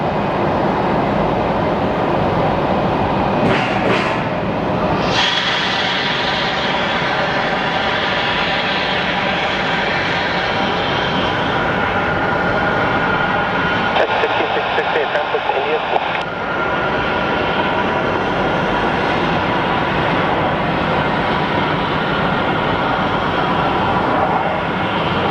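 A jet airliner lands at Phoenix Sky Harbor airport, a loud, continuous broadband engine roar with whining tones that holds steady throughout, close and dominant.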